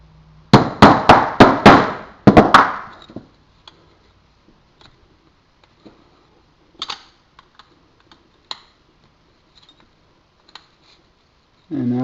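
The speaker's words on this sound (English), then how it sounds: "putty knife and a small ball peen hammer. Brings it right off." A small ball peen hammer taps a putty knife against a copper washer on a Dodge Ram Cummins diesel fuel injector. A quick burst of about eight sharp close metallic taps is followed by quieter scattered clicks and handling noises.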